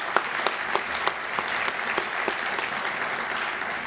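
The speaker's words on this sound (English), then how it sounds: "let's give them a round of applause for their support" Applause from a seated dinner audience at a chamber of commerce awards evening honoring legislative supporters, a steady round of clapping from a moderate-sized crowd with a few sharper claps standing out.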